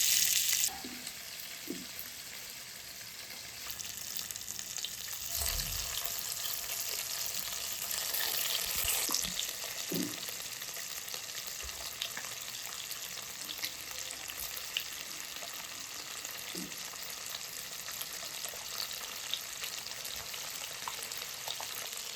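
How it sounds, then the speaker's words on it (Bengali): Fish frying in hot oil in a nonstick pan, a steady bright sizzle that swells in the middle, with a few soft knocks and stirring sounds and no talking. "তেল গরম হয়ে এলে আমরা ব্যাচ করে করে মাছ ভেজে নেব।"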